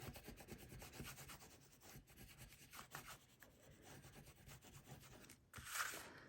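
Folded paper belly band for a mini album being burnished flat, soft repeated scraping and rubbing strokes close up and faint, ending in a slightly louder swipe.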